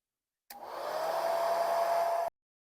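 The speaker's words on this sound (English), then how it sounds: "I'm going to blow dry it" A hair dryer blows on a sunset sky painting, starting abruptly and holding a steady, loud, close whoosh with a faint tonal whine for about two seconds before cutting off, with no talk.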